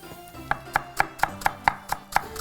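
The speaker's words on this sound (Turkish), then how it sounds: "Hemen pırasalarımı ince ince kıyacağım." A knife finely chops leeks on a cutting board, about nine crisp, evenly spaced strikes in a quick, regular rhythm, close and clear with no talking.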